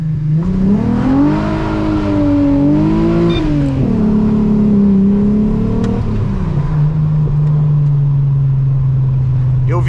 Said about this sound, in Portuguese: Pode dar uma aceleradinha aqui?